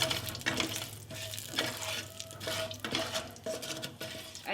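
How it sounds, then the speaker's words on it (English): Panch phoron and bay leaf sizzle in oil in a pan, with a steady frying hiss broken by repeated stirring scrapes and clinks of the utensil against the metal. "Saute it for a minute"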